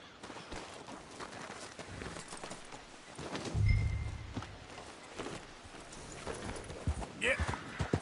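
A horse's hooves clop at a loose, uneven pace in Red Dead Redemption 2, moderately close, with voices talking over part of the stretch.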